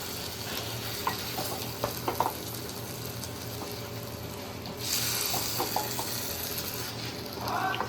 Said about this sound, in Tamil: இப்போ மசாலாலாம் போட்டு கத்திரிக்காவை இப்போ உடையாமல் இது கொஞ்சம் வதக்கிடுவோம்.